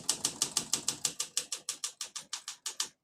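Typing on a 1959 Olympia SM3 portable typewriter: about twenty crisp key strikes tap in an even, brisk rhythm, close and clear with no talking.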